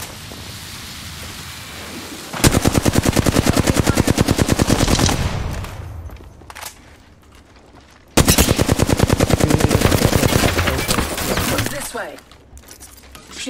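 Rapid automatic gunfire in Apex Legends hammers out in two long, loud sustained bursts separated by a short lull, each a dense machine-gun rattle.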